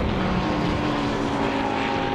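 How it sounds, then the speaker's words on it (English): Normally aspirated Mercedes GT4 race car engine during a GT Cup race at Snetterton, a continuous droning engine note heard at moderate distance with no pauses. "Still sounds absolutely glorious, the noise that the normally aspirated Mercedes make."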